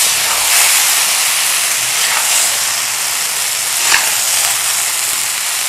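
Pre-fried okra with chilies is mixed in a hot pan over raised flame, a loud, steady hissing sizzle with a few brief scraping accents; no talk.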